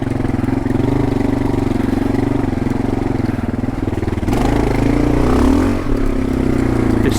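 A Kawasaki KLR adventure motorcycle's single-cylinder engine throbs loud and close on a single-track trail, with throttle shifts and a brief rev partway through.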